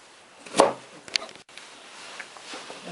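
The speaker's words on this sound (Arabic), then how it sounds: "خلصنا تقطيع" A knife chops radish cubes for Korean kimchi on a board, with a sharp close knock followed by a lighter one and faint scraping after.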